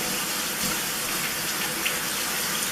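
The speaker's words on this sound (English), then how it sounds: "All the time this water's going and going." Tap water runs steadily from a faucet into a sink during handwashing, a continuous close, even splashing hiss for the whole stretch with no voices.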